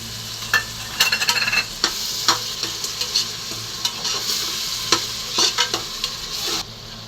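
Ginger, garlic and shallots sizzle steadily in a hot pan while a utensil stirs and scrapes repeatedly, sharp clacks scattered over the continuous frying hiss.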